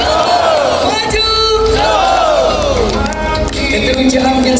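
A large crowd roars and cheers at a public event in Johor, Malaysia, welcoming a dignitary with loud sustained shouting and whoops, voices overlapping continuously with a few chants rising above the din.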